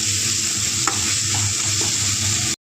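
Ginger garlic paste sizzles loudly and steadily in a hot pan, with faint stirring scrapes now and then, until the sound cuts off abruptly at the end.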